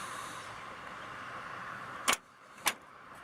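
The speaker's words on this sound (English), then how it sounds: "We're going to let the door shut here." A heavy door on a 1947 Chevrolet swings shut with a soft, solid thump after a quiet stretch of idle ambience, then a second, lighter latch click follows a moment later.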